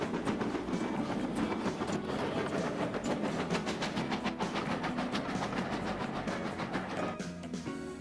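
A vintage steam locomotive hauls its train up a gentle 1.5% grade near Churston on the English Riviera, with a steady, loud rhythmic chuff and rolling clickety-clack of wheels on rail sustained throughout, with no voices.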